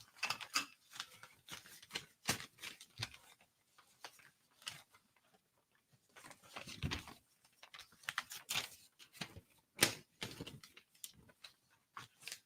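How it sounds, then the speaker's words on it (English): Paper sheets are shuffled and handled at a model rocket build bench, with soft scattered rustles and taps in irregular bursts, close and fairly quiet. "look at me shuffling papers"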